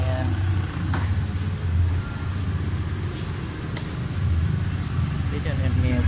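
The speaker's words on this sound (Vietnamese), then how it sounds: "Xe sẽ nổ máy nha anh em." A Honda Air Blade scooter engine runs at a steady low idle putter nearby, while someone talks over it.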